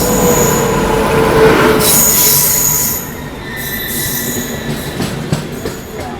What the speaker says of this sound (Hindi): ये देखो बगल से ये आ रही है विजयवाड़ा चेन्नई पिनाकिनी एक्सप्रेस।